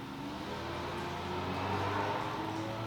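A small 4-cylinder car engine drones steadily with a broad, rumbling roar that holds at a constant moderate level throughout.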